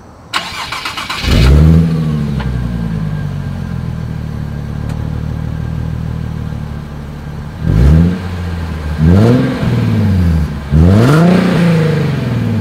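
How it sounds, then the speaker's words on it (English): A 2020 Nissan 370Z starts and idles with a deep exhaust rumble, then revs sharply three times, loud and close. "Here is the 2020 Nissan 370Z exhaust clip."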